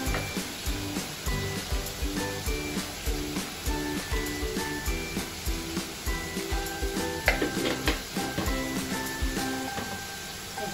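Masala sizzles and fries in a pan for an aloo, gajar and matar sabzi, with a steady stirring rhythm of repeated scraping strokes and light metallic clinks, close and continuous with no talk.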